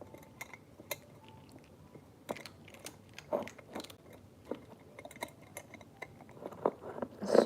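Indoors, a cat chews crunchy treats, producing a steady run of small, close crunches and clicks with irregular rhythm and no talking.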